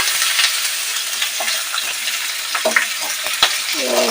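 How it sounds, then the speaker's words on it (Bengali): Cut potatoes frying in a pan with oil and whole cumin for a Bengali banana-flower dish, a close, crackling sizzle with scattered clicks of a stirring spoon against the pan, no voices. "ভালো করে ভেজে নিতে হবে।"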